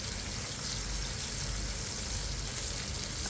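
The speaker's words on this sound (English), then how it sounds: "my ammo is frying it until it becomes crispy" Katla fish pieces frying in hot oil until crispy, a steady, even sizzle and crackle with no talking.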